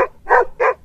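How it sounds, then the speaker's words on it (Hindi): Stray dogs bark near a farm field at night, two sharp loud barks in quick succession, close by and clear with no talking. "तभी उसे कुछ आवारा कुत्तों के भौंकने की आवाज सुनाई देती है।"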